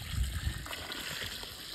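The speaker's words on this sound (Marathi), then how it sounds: "याला थोडं पाणी जादा घालू बैला, पाणी भरलं पाहिजे." Water poured onto a young newly planted tree at dusk, a soft low splashing and trickling that stays close and steady for a couple of seconds with no talk over it.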